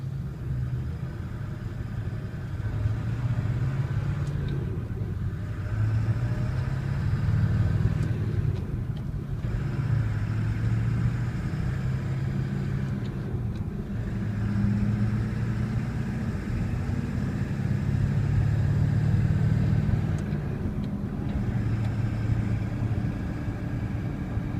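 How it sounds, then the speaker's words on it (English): A 2000 Ford F250 diesel pickup with a manual transmission drives down a road, giving a steady low engine rumble with road noise that rises and falls slightly as it runs continuously, with no talking. "We're going to go a couple miles here and let you watch it just ride down the road."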